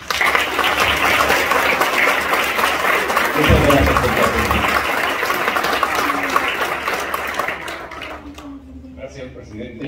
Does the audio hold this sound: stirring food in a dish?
no